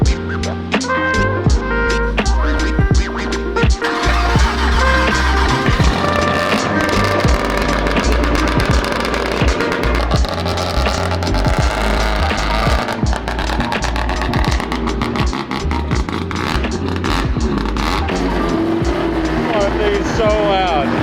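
A high-horsepower car engine revs extremely loud and close, with repeated sharp throttle blips and sustained roaring bursts, while people shout and talk over it.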